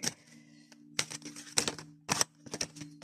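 A deck of tarot cards is cut and shuffled by hand, giving close, crisp riffling and slapping card sounds in several short bursts over a faint steady hum.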